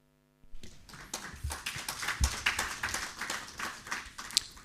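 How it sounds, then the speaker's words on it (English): Applause follows a presentation at a regional training seminar on animal welfare. After a brief silence, scattered claps rise into steady, moderately loud clapping from a small audience that carries on to the end. "I hope you can hear the applause"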